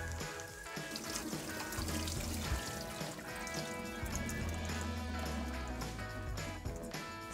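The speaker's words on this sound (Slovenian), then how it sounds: "Kolikor pa ne marate kislega zelja, ga lahko malo splaknete." Water runs and trickles over sauerkraut as it is rinsed in a home kitchen, a steady splashing pour with faint dripping, continuous and fairly quiet throughout.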